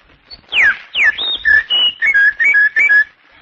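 A man whistles a bird imitation, a quick series of about eight bright, sliding chirps and trills, loud and close, in a 1930s radio sound-effects routine.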